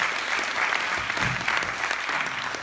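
A presentation audience answers with a burst of applause, dense and fairly loud clapping that holds steady throughout, with a faint murmur underneath.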